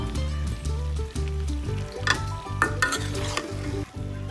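Shredded meat and torn dried red chillies frying in a pan, a loud continuous sizzle with rhythmic stirring scrapes every half second or so, close up and without talk.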